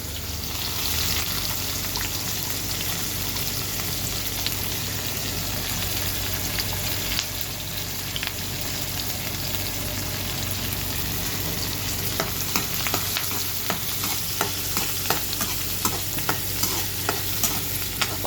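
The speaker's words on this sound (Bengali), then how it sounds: "তার সাথে ছেড়ে দেবো রসুন, কাঁচামরিচ সবগুলো একসাথে ভাজবো" Garlic and green chillies sizzle steadily in hot oil alongside dried chepa shutki fish for a bhorta, with continuous close frying crackle and occasional stirring clicks, no voices.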